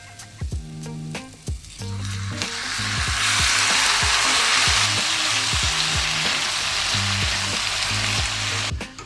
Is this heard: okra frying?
yes